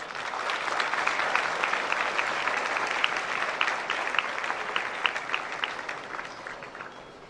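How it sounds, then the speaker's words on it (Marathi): Loud, sustained audience applause at an award function of a Nagpur foundation, steady dense clapping throughout with a slight fade near the end and no talk over it. "एकदा जोरदार टाळ्या"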